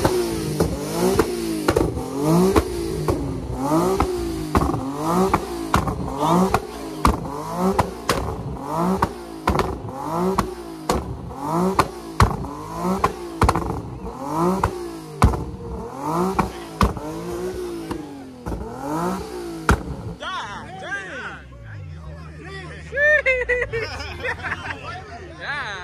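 A Dodge Scat Pack's engine blips in a rapid series of sharp revs at a car meet, about a dozen rhythmic bursts followed by a lower rumble, with a crowd chattering and laughing throughout.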